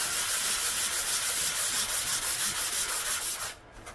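A flat surface on a VW engine part is sanded by hand in steady, rhythmic back-and-forth strokes, close and loud, stopping abruptly near the end.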